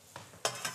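Oil in a frying pan sizzles and crackles in short, bright bursts, close and moderately loud, with a faint stirring scrape underneath.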